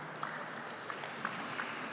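Steady applause fills an awards gala hall at the FINA World Aquatics Gala, fairly faint and distant, with a few sharper claps standing out from the even wash.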